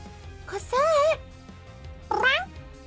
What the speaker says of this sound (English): Everyone listen to Cosette meow